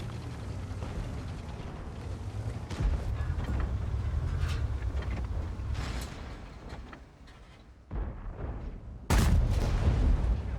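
Heavy booming Tiger-Maus tank cannon shots from a video game, with a loud blast near the end over continuous rumbling engine noise.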